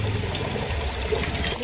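Water pours steadily in a domestic kitchen, a continuous trickling stream heard up close with no talk over it.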